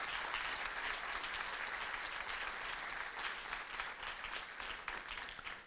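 A church congregation applauding during an evening service, dense sustained clapping from a large crowd, even and continuous throughout, with faint voices mixed in.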